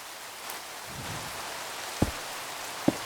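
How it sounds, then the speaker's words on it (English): Steady rain hiss fills a video game scene with a rain shader, a soft even wash broken by two sharp, close drip-like taps near the end. "dude, the stupid rain."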